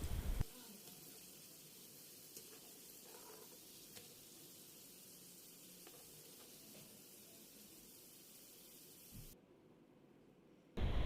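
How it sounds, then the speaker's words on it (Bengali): Potato pieces frying in hot oil for homemade french fries give a steady, close sizzle with faint crackles throughout, cutting off abruptly near the end. "এগুলোকেও এখন ফ্রাই করে নেব"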